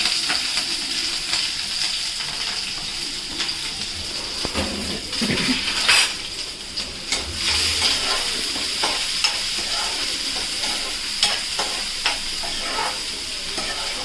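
Green chillies frying in hot oil in a pan, a constant close sizzle with a few stirring scrapes and knocks, steady and loud throughout.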